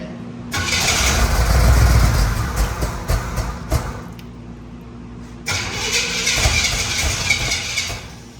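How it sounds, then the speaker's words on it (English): A flood-damaged 1973 Pontiac Trans Am engine cranks and fires, then settles into a rough, loud idle close by, with a brief dip and a second surge of revving in the middle. "starts right up though, that's Pontiac"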